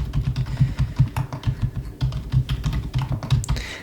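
Steady typing on a computer keyboard at a hotel check-in desk, close and crisp, with rapid uneven keystroke clusters and short pauses, no talking over it.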